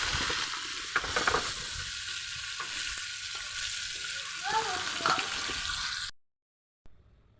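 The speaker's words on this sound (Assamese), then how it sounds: "আগৰ নিচিনাকৈ মই এই তিনিটা মাছো ধুনীয়াকৈ ভাজি ল'ম।" Three rohu fish fry in hot oil in a kadai, a steady broadband sizzle with occasional crackles and pops, loud and close, running alone for about six seconds before cutting out, followed by a short faint tail.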